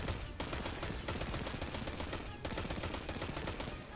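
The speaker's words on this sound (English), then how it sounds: "We're shooting things." Rapid automatic gunfire from Destiny 2 rattles almost continuously, a dense, loud stream of shots with brief breaks near the start and middle, no voices.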